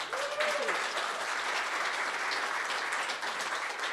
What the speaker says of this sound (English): I think we can applaud Juliette.